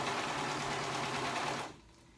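A serger sews through fabric on a kids' moto pants project, a steady high-speed mechanical whir that runs loud and continuous before cutting off abruptly near the end.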